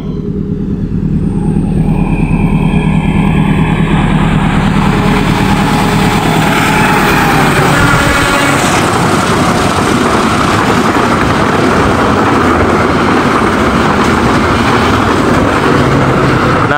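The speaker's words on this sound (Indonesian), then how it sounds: "simak dulu kereta api Malioboro Express" The Malioboro Express passenger train rumbles past close by, a loud continuous roar of engine and wheels that holds steady for the full length.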